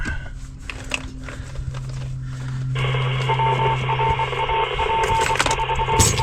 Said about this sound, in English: Well, Morse code going on.